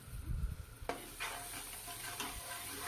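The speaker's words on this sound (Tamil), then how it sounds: "நல்லா கிளறி விடணும். இல்லாட்டா அது குக்கர்லேயே நல்லா ஒட்டி பிடிச்சிக்கும்." A spoon stirs biryani masala with ginger garlic paste in a pressure cooker, a scraping stroke followed by a soft steady sizzle of the frying mixture.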